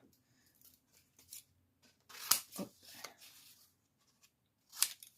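Scissors snipping a small corner from mauve vellum paper during scrapbook card-making, a few quiet crisp cuts with two sharper snips standing out, close up, with a brief spoken word in between.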